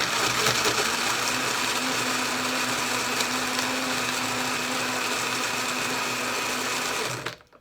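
An Arzum personal smoothie blender crushes ice and persimmon with a loud, steady motor whine and gritty rattling for about seven seconds, then cuts off abruptly.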